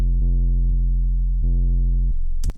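Synth in a DAW holding a buzzy, harmonic-rich note that drops abruptly to a lower note with no glide between pitches, loud and sustained, ending in a short bright click.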